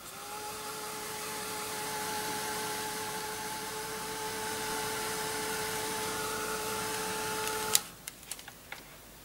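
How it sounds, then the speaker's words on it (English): A heat tool dries crackle glaze on card over a darker base colour, blowing a steady whirring drone for about seven and a half seconds before it cuts off, followed by a few light clicks. "I'm just going to dry the second piece of card with a darker base colour on"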